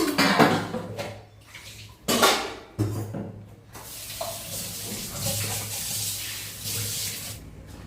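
Running water splashes in bursts with the clatter and rubbing of dishes being washed in a sink, close by.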